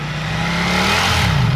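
Ducati Panigale V4S, a 2018 superbike, revving up close by, its loud engine climbing steadily in pitch as it builds revs over a second and a half.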